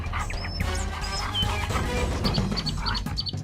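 A cartoon dog's barks and yelps come in short bursts over a busy animated soundtrack with chirpy tones, loud and close, no talk.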